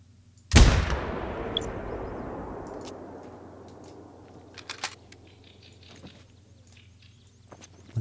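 A single loud rifle shot fired at a wild rabbit in The Hunter: Call of the Wild, a sharp crack followed by a long decaying echo, with faint clicks and small movement sounds afterwards.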